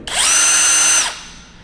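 A ROTAKE RC8805 3/4-inch cordless impact wrench runs at 1800 RPM in a single loud, close, high-pitched whir lasting about a second, starting abruptly and winding down quickly, with no talking.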